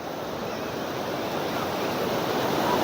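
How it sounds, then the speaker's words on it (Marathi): Big ocean waves surging and crashing on a shore, a loud continuous roaring wash that builds slightly over the seconds, with wind noise and no speech. "ही लाट आता जबरदस्त लाट आहे"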